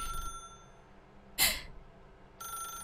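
A telephone rings once in The Stanley Parable video game, a short loud electronic ring standing alone between quieter stretches of ambient game hum.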